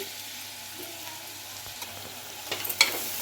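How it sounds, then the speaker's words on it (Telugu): Bitter gourd pieces coated in chili powder being stirred in hot oil for a tangy bitter gourd curry, a soft steady sizzle with scraping strokes that grow sharper and louder toward the end, no talking. "ఇలా కలుపుకోవాలి అడగంటకుండా, పర్ఫెక్ట్గా వస్తుంది కర్రీ అనేది"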